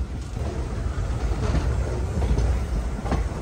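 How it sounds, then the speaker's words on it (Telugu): The Gowtami Express runs along after departure, a steady loud rumble with occasional clicking wheel knocks, heard from inside the coach without voices. "మన ట్రైన్ బయలుదేరిపోయింది"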